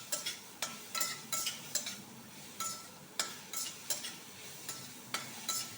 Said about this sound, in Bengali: একটু নাড়াচাড়া করে, বেশি ভাজা না, কারণ এটা চাটনি হবে